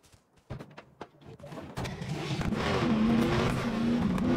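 A truck is driven in the video game Cyberpunk 2077: a few sharp knocks, then an engine that revs up and holds a loud, steady drone with a rising whine.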